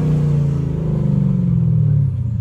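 A Mercedes-AMG SLK55 engine revs with a loud, deep, throaty rumble heard up close, holding a steady growl before the pitch drops away as the revs fall off near the end.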